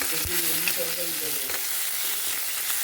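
A single tomato fries in hot oil for an olkopi and katla fish dish, with ginger and garlic joining the pan. It makes a steady, close sizzling hiss, with a few brief tonal bits over it and no clear speech.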